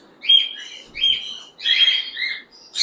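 Sun conure parrots in a pet shop give loud, shrill chirps close by, four sharp bursts in quick succession with brief quiet gaps between them.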